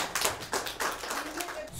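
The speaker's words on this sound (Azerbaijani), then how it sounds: "Süper. Alqışlayaq." Children applauding together in a classroom during an open lesson, a short burst of quick, scattered claps with a few louder peaks, close and fairly lively throughout.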